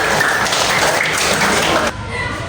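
A classroom full of people claps loudly and steadily for about two seconds, then the applause drops off abruptly into quieter patter.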